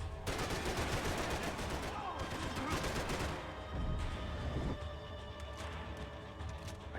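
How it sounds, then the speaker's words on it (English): Dense, loud shotgun fire in the video game Max Payne 3, a rapid run of blasts packed under busy game noise that eases into a quieter, steadier background near the end. "Fusil à pompe, encore."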